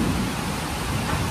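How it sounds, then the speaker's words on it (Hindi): Heavy nighttime rain in Goa, a dense continuous roar of downpour with steady broadband hiss and no breaks, loud and close. "आप लोग इधर लाइट पे देख सकते हो फुल ऑन बारिश है"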